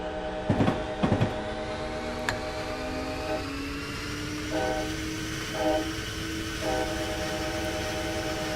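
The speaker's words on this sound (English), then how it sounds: "Horn seems kind of muted" A diesel locomotive horn in Train Simulator 2016 sounds from inside the cab, slightly muted, with a few short blasts over a steady rumble of the moving train and engine.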